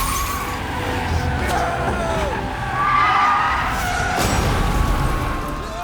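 A car skids hard during a film chase scene, tires squealing and screeching over a roaring engine, with a voice speaking over the action and a sharp impact near the end.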